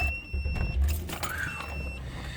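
A car's engine starting and settling into an idle on a cold day, with keys jangling and a brief mechanical whir, close by and fairly loud.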